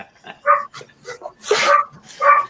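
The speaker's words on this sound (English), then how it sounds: "This is what dogs sound like." A dog barks in several sharp separate bursts, close and loud, with brief whimpering yips between them.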